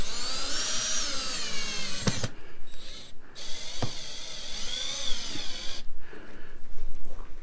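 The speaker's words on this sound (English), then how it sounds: "I'm going to use these self-tapping screws." A power drill drives self-tapping screws to mount an RV backup camera, whining up in close, loud bursts that stop and restart, ending with a final longer run.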